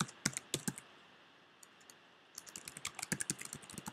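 Code being typed on a computer keyboard, with sharp, irregular keystroke clicks in two bursts separated by a quiet pause, close and fairly faint, no talking.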